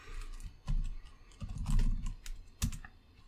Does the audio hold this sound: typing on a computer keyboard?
yes